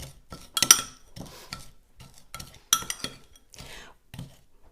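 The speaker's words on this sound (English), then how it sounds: "Add that to the other spices and just mix that around till the sugar and the spices are all mingled together." A spoon stirs brown sugar and spices together in a bowl, making scattered clinks and scrapes against the dish in short irregular bursts. Two sharper clinks stand out among quieter rubbing sounds, with no talking.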